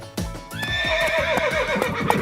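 An Icelandic horse gives a close, loud whinny, a quavering neigh that rises then shakes downward over about two seconds, with hoof-like thuds beneath.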